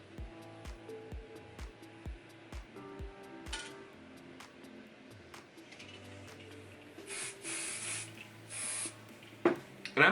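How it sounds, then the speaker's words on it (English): Hairspray hissing onto a man's hair in several bursts during styling, each spray a broad airy hiss, with soft clicks and handling noises in between. "And then these pieces, I'll start putting some hairspray in."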